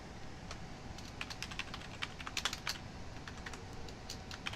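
Rapid, irregular clicking of a computer keyboard being typed on at close range, with a quick burst of keystrokes midway and no voices.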